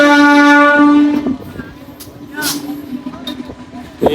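A small eight-coach train on a village line sounds a loud, sustained horn for about a second, then rumbles and rattles past nearby with wheel noise and faint voices in the background.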